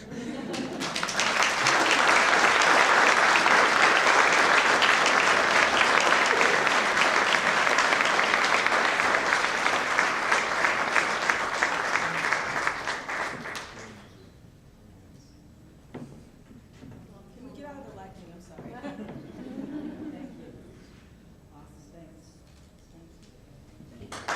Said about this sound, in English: How about one more round of applause for all of our Youth Venture teams?